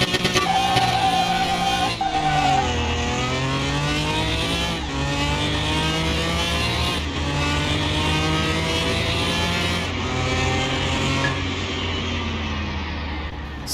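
Car engine revving hard through rising gear pulls during a drag race against an old-school Mustang Fastback in Car Mechanic Simulator 2021, loud and continuous with repeated upshifts and no talk.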